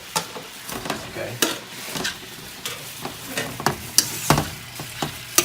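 Tomato chunks fry and sizzle in a pan while being stirred, with steady crackling broken by repeated sharp scrapes and clatters of the utensil, fairly close and moderately loud.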